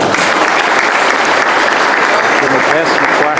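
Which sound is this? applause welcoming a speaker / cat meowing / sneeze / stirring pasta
applause welcoming a speaker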